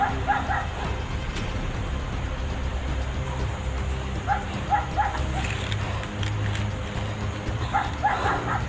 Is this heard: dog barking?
yes